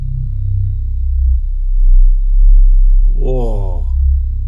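Roland System-8 synthesizer playing harmonic and subharmonic sine-wave tones through its Juno-style filter: a steady low drone for three seconds, then a brighter sweeping, chirping tone rises in near the end, loud and up close.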